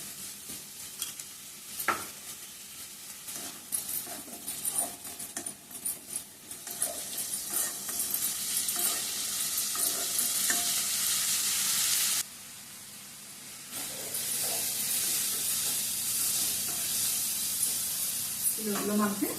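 Onions frying in a pan, with loud sizzling that swells and continues while a utensil stirs and scrapes in irregular knocks; the hiss drops briefly midway and then returns strongly.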